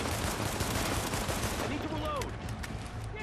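Rapid bursts of gunfire from behind the player in Tom Clancy's The Division, dense and continuous volleys that thin out near the end, with a few whistling sweeps at the tail.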